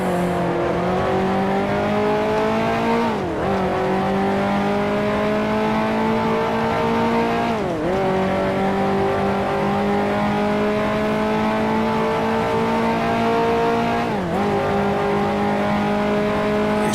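A 1955 Formula One race car engine in the Grand Prix Legends racing game drones loud and steady, its pitch climbing through long sustained pulls and dipping sharply at three gear changes, with no talk over it.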